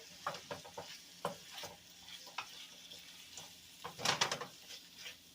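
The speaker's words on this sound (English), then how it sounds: "Let's get it kind of stirred up here a little bit." Cabbage is stirred in a sizzling pan, with a soft frying hiss under repeated scraping and clattering strokes of a utensil against the pan, close up and moderately quiet, with a denser flurry of scrapes near the end.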